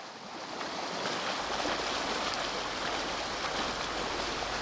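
Spring water flowing steadily all year in barren desert country near palm trees, a continuous rushing, bubbling wash that swells after the first second and then holds steady, close and loud with no voices.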